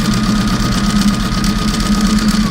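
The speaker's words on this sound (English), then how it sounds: "I'm going to go ahead and sew back over it because I'm not going to rip anything" A sewing machine stitches back over fabric in a fast, even mechanical whir, close and loud, with steady rapid pulsing and a constant hum throughout.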